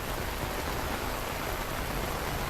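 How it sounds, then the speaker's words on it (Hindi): Heavy monsoon rain falls during flooding in north India, a dense, steady roar of downpour close by with no voices. "इतनी तेज बारिश"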